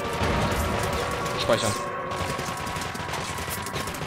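Gunfire in the video game Cryostasis: a dense burst of rapid shots and mechanical clatter with a sharp crash midway, loud and continuous, while someone speaks over it.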